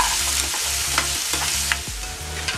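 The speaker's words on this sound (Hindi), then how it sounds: "इसे गोल्डन होने तक सॉटे करेंगे।" Three medium chopped onions sautéing in oil in a pan, a steady close sizzle with periodic scraping stirs cutting through.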